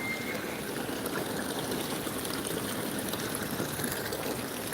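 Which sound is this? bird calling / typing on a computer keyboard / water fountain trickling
water fountain trickling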